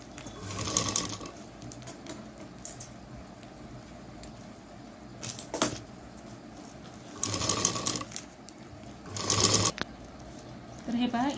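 A sewing machine runs in short bursts while stitching a strip around a shopping bag made from an old gown, each stretch of rapid whirring separated by pauses, with someone talking throughout.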